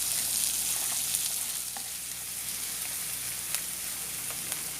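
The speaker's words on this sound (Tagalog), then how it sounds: "our garlic and onions are sweating very well and it's slightly brown" Chopped garlic and white onion cooking in oil in a pan, a constant bright sizzle with faint scattered pops and crackles, close and steady with no talking.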